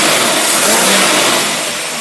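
A car engine fitted with a 600cfm manual choke carburetor revs loudly and close, a dense steady roar that swells and then eases slightly, heard alone without talk.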